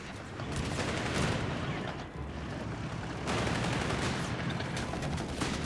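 Rifle fire crackles through a Company of Heroes 3 match between the Afrika Korps and US forces, dense rattling volleys and bursts rolling almost without pause, loud and close.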